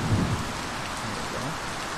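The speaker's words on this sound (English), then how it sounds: "So this is full rain here." Steady, dense synthesized rain hiss from Unreal Engine 5 MetaSounds fills the whole stretch, even and continuous with a faint low rumble underneath and no voices.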